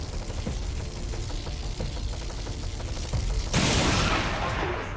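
A blaster bomb goes off in XCOM 2 with a sudden loud, broadband burst that follows scattered clattering game noises and rings out into a dense, hissing tail lasting over a second.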